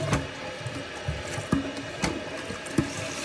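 A toilet tank refills with water after a flush, a steady close rush of running water with occasional soft knocks and clunks from the tank.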